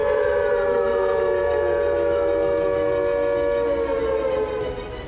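A civil defense siren, sounded during a mock drill in India, gives a loud, sustained wail whose steady tones slowly glide downward, continuous throughout and fading slightly at the end.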